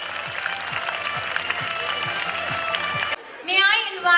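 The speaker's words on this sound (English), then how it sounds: "Audience, kindly give a huge round of applause to our little ones." Audience claps for nursery school children at a school function, a moderate patter of applause mixed with music for about three seconds, then a few louder noises and voices.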